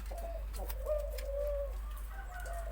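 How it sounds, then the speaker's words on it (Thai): A spotted dove gives deep, hollow cooing phrases ending in two to three short notes, close and clear over a steady low background hum. "ตัวนี้เรียกลงกุกสองถึงสามกุกเลยนะคะ"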